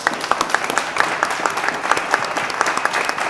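Audience applause for a panel discussion: a brisk, even round of many hands clapping together, close and steady for a few seconds with no talk over it.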